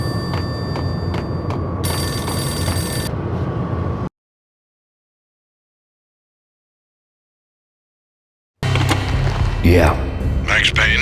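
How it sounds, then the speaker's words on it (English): A payphone ringing in the video game Max Payne, a loud sustained electronic bell ring that cuts off abruptly into silence, followed by game sounds and a voice. "The payphone started to ring."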